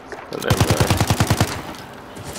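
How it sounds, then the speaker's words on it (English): A quick burst of roughly ten rapid automatic gunshots from Call of Duty: Modern Warfare Survival Mode, loud and evenly spaced, then fading into quiet room tone. "Stop shooting!"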